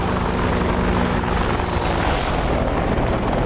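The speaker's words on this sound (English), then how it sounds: "One more flyby, here we go." An AH-64 Apache helicopter in the DCS World flight simulator passes close, its rotor and turbine making a loud, constant throbbing roar that holds steady throughout without voices.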